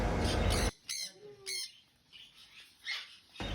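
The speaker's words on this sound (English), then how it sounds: "Varieties of colorful birds are here." Colorful caged birds at a bird shop in the Gulf give several loud, harsh squawks in short bursts, with a burst at the start and more calls spaced through the moment, some with rising whistled tones.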